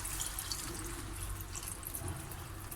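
Strained tomato juice pours into a pot of celery in a steady liquid stream, a continuous close watery gurgle and splash.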